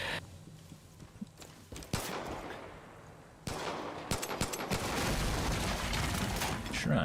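Rapid bursts of video game gunfire blasting a shrine, loud sharp cracks and rattling volleys building toward a dense continuous barrage, with people talking over it.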